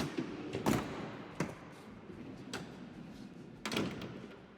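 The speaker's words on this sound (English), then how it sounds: "The manual door, it just works." Manual sliding door on a 2024 Pleasure-Way Plateau FL camper van, a few quiet sharp clunks and thuds spaced over several seconds as the door is worked and latches crisply, with no talking.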